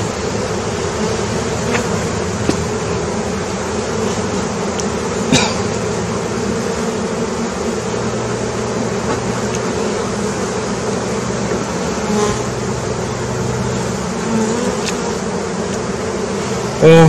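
A colony of about 60,000 Italian honeybees buzzes during a July hive inspection, a dense, continuous close drone with a few individual bees passing nearer.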